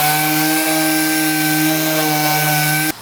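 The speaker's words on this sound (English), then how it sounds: "going over the sandpaper before we put filler on it to get rid of any bits that are sort of flaking off already" Sandpaper worked over the damaged bodywork of a crashed Nissan R32 drift car before filler, a steady close abrasive rasp with a tonal hum, stopping abruptly at the end.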